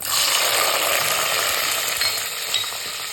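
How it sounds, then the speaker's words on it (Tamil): Chopped shallots fry in hot oil alongside spluttering mustard seeds, a loud, continuous crackling sizzle heard close up with no talk. "நம்ம கட் பண்ணி வச்சுருக்க சின்ன வெங்காயத்தை இதில் சேர்த்துக்கலாம்"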